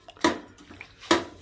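Water pours into a cooking pan holding dal, vegetables and rice for a homemade dish with onion, tomato, beans and brinjal, in two short, close splashy bursts with a quiet gap between them.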